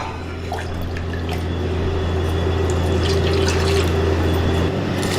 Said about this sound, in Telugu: పెసరపప్పు ఉడకడానికి సరిపడా నీళ్ళు వేసుకుందాం